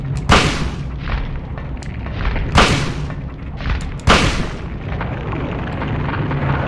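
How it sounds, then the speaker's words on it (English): A shotgun firing in the Silent Hill video game, three heavy booming shots spaced about two seconds apart over a rumbling, dense game soundtrack. "We have a shotgun. We're gonna shoot him in his big face."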